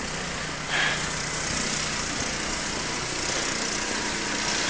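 A distant snow blower drones steadily while clearing snow in front of a school the day after a blizzard, a constant engine hum mixed with broad outdoor noise.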